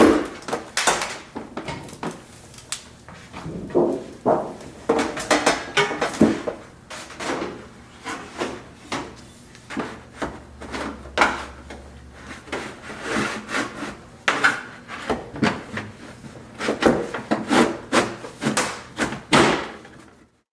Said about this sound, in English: get our aluminum sheets placed in there, sort of fit into place, and then do whatever trimming